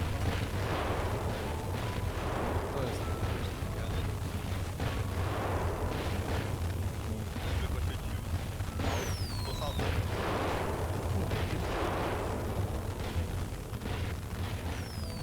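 Repeated booming bursts and crackling pops from a video game fireworks display, dense and continuous, with rising whistles near the middle and voices talking underneath.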